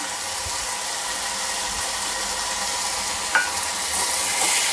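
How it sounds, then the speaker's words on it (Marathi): Fresh field beans being sautéed with brinjal in a pan, a steady, close sizzle and hiss of frying with a brief metallic scrape of stirring partway through. "मी छानपैकी याला परतून घ्यायचं आपण थोडंसं परतून घेऊया"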